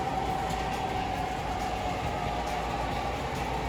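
A model AC-44 locomotive runs along its track with a steady, continuous rumble and a faint whine. The sound is even from start to finish, with no voices.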